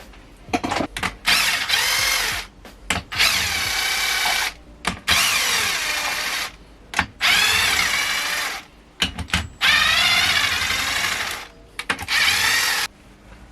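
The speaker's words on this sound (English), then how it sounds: "it should be good with a ratchet now" A ratchet cranks on the engine head bolts during a Ford Fiesta Mk5 Zetec S engine rebuild, coming as repeated loud bursts of rapid clicking separated by short pauses.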